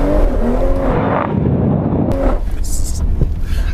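A 1,000-horsepower M240R car roars loudly and close at a gymkhana, its engine note rising and falling in sharp revving bursts, with voices talking over it.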